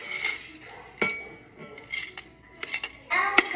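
Glass and metal clinks ring out in short bursts as cooled fried shallots are spooned into a glass jar, with a few scrapes between the sharp taps.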